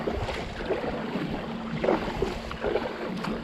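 Kayak paddle strokes on open water from a 13-foot Pursuit kayak paddled hard, tournament style, with a few soft splashes and swishes over a steady wind-and-water rumble and a faint low hum.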